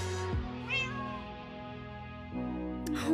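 A cat meows in a long, drawn-out wail with a wavering pitch, close and fairly quiet, then breaks into a shorter, rising meow at the end.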